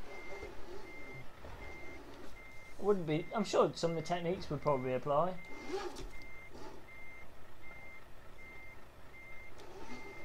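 A truck's reversing alarm beeps steadily in Euro Truck Simulator 2 while someone talks over it.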